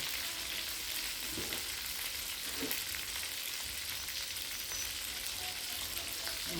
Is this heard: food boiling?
yes